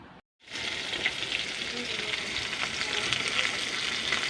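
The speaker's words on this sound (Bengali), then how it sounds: "মাছগুলো ভালো করে ভাজা হয়ে গেছে," Pieces of rohu fish fry in oil in a pan, a steady close sizzle with small crackles and pops, alone after a brief silent start.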